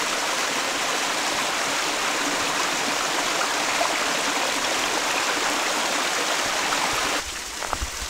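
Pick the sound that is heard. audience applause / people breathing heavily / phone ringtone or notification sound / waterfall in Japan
waterfall in Japan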